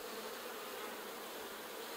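Honey bees at a hive give off a dense, continuous buzzing drone, steady and fairly faint, with no voices.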